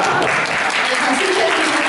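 Audience applause fills a conference room at a hundred-person citizens' roundtable meeting in Gumi City Hall: dense, steady clapping from a crowd, loud and close, with faint voices mixed in.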